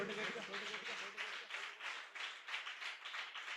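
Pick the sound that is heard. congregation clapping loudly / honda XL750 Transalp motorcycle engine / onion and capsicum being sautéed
congregation clapping loudly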